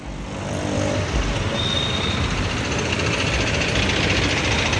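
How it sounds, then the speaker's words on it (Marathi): Jammed road traffic in Badlapur near Union Bank in Beloli, a dense continuous rumble of idling and creeping engines close by, steady and loud with no voices. "युनियन बँकेपर्यंत ही ट्रॅफिक कोंडी आपण पाहतोय"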